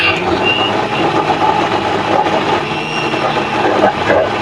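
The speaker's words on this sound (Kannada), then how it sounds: "ಮಸಾಲೆನ ಮಿಕ್ಸಿಗೆ ಹಾಕೊಳ್ಳೋಣ." A kitchen mixer grinder blends wet masala for paneer butter masala, a loud, steady motor whir and grinding roar that runs unbroken for the whole stretch with no talking.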